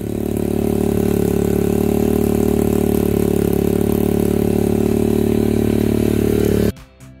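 A 125cc dirt bike engine runs steadily at idle to warm its oil, a loud, close, continuous drone that cuts off abruptly near the end.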